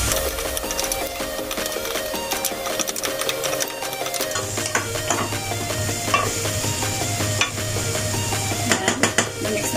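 Zucchini, mushroom, black fungus and pork stirred in a pan with oyster sauce: steady sizzle with repeated scraping and clinking of a utensil against the pan, close and continuous, with no talk.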